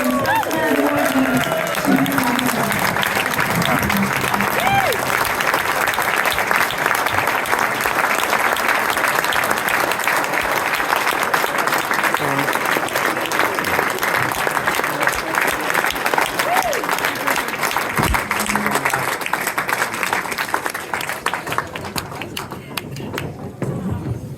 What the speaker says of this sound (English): please give a very big round of applause once more